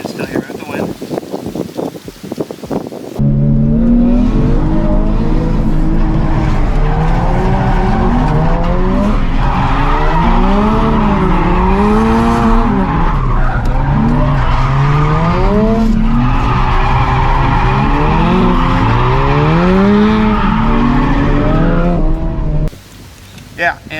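Cars drifting at the Fall Drift Matsuri in Fukushima, with loud, sustained tire squeal that wavers up and down alongside revving engines and wind for about twenty seconds.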